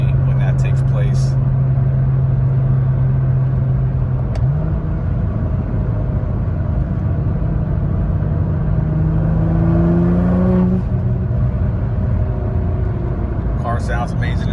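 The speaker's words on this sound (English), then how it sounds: "you hear the turbo spool up right away, blow off valves" A Nissan GT-R with adjustable exhaust valves and about $30k of modifications holds a loud, steady engine drone, then its turbo spools up with a rising whistle and the blow-off valves release, all under someone talking nearby.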